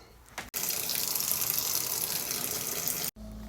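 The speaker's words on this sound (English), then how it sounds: "Aha, now we just gotta add the water." Tap water gushes steadily into a portable refrigerator being filled to thaw meat, a loud continuous pour lasting about two and a half seconds and ending abruptly.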